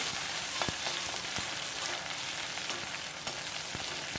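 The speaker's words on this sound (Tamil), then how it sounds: "ஒரே ஒரு பச்சை மிளகாய் கட் பண்ணி வச்சுருக்கேன் அதையும் போட்டுக்குவோம் இதை நல்லா வதக்கணும்" Shallots and a cut green chilli sauté in hot oil for a South Indian fish curry, giving a steady broadband sizzle with brief crackles and a few stirring clicks, close and continuous with no talking.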